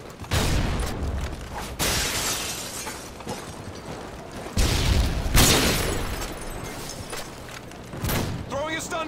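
Flashbang grenades go off in a Call of Duty-style shooter, with several sharp shattering bangs and bursts across a noisy firefight, some ringing afterward, under shouted voices.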